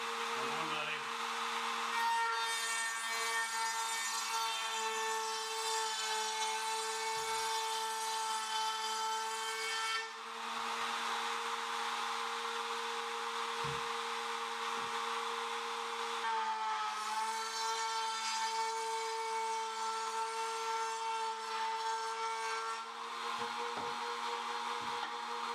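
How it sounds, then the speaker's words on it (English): A router cuts a chamfer along cedar sideboards for garden planters, giving a loud, steady high-pitched motor whine that runs almost without a break, with brief dips in pitch and load as the bit moves through the wood. "I route a chamfer into all of the sideboards."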